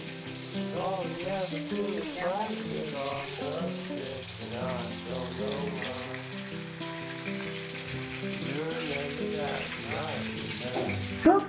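Pieces being fried in a hot pan until red, with a steady, close sizzle and hiss running throughout beneath a prominent tonal melody.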